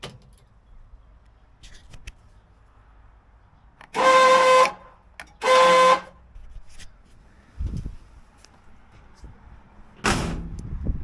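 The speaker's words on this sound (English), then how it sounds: "Well, I guess the horn button works." Worn-out horn on a 1964 IH Travelall C1100 truck, two loud short honks close together, with quiet clunks and handling noise around them and one later brief burst.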